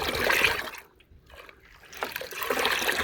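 Water being stirred and sloshed in a bucket to dissolve NPK 19 fertilizer for hibiscus plants, a close trickling and splashing that pauses briefly in the middle before resuming.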